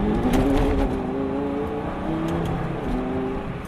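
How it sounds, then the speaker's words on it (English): Lamborghini Gallardo on Pirelli summer tires revving on a winter road as the wheels spin, a close, rising engine whir with shifting pitch throughout. "Barely any throttle at all, and the tires spin."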